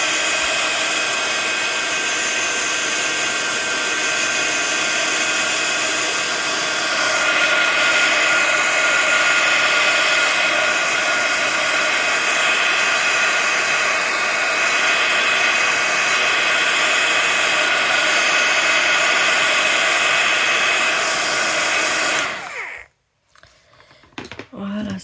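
A hair dryer blows on acrylic paint to dry it fast. Its loud, steady roar runs for over twenty seconds and then cuts off sharply near the end.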